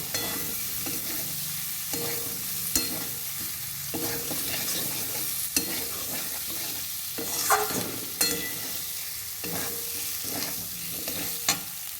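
Potatoes being stirred into fried spice paste in a pan for ghugni, a continuous close sizzle and frying hiss with repeated scraping stirs of a spoon, no talk.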